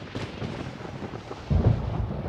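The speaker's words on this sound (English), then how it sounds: "Paimon hears thunder!" Thunder in the video game Genshin Impact rumbles low and heavy, swelling into a louder, nearer roll about two-thirds of the way through, with no voices over it.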